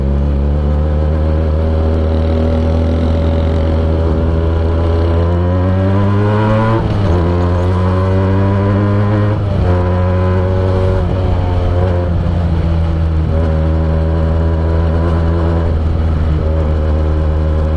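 A Benelli TNT 249 S motorcycle engine revs loudly up close, climbing and dropping in pitch through several throttle blips over a steady idle rumble, with no talking.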